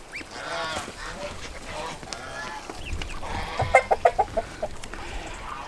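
Hens cluck in a quick run of short, sharp calls midway through, over a steady outdoor background hum on a farm.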